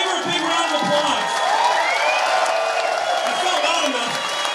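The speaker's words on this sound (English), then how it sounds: "Let's all give her a big round of applause." A crowd at a Conservative political rally in Surrey cheers, whoops and applauds in a loud, sustained roar with no breaks, while voices shout within it.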